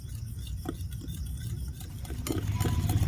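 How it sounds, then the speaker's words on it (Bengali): Powdered sugar is stirred into a rice-flour cake batter in a bowl, a steady close scraping and swishing that builds louder toward the end, with a few faint clinks of the utensil. "একসঙ্গে দেওয়া যাবে না, অল্প অল্প করে দিয়ে খুব ভালো করে মিশিয়ে নিতে হবে।"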